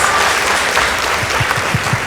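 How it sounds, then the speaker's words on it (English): Steady applause from a crowd at a high school debate fills the whole stretch, dense and fairly loud, with a few sharper claps near the end. "let's give the ladies from Machakos Girls High School a round of applause"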